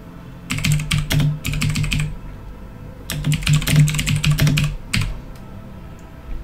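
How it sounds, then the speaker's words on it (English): Two close bursts of rapid clattering key presses on a computer keyboard during a Star Citizen gaming session, separated by a short pause, with no voices over them. "Is it typing or is it not typing?"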